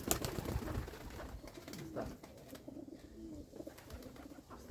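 A young light blue-grey male pigeon coos softly nearby in low, rolling bursts amid rustling, while a person speaks briefly.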